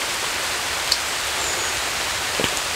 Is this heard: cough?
no